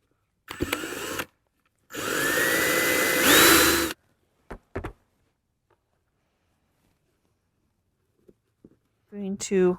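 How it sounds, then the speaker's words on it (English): An electric drill whirs in two bursts into a piece of thrifted furniture, the second longer and rising in pitch as it bites in, followed by a few small knocks and silence. "Try to drill into here."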